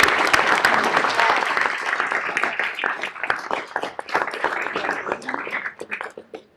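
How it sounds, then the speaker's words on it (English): A room of people at a Tempe City Council regular session gives a big round of applause for Tempe Sister Cities volunteers, a dense, steady clapping that thins and fades toward the end. "So a big round of applause"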